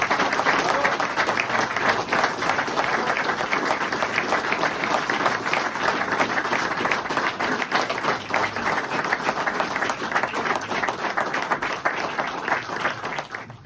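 An assembled audience at a ceremony bestowing the officer medal of Arts and Letters applauds at length, a dense, sustained roar of many hands clapping steadily before it tapers off at the very end.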